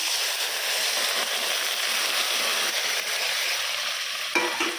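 Maggi noodles cooking in a pan with masala and a splash of water, giving a steady close hiss and sizzle throughout, with a brief clatter near the end.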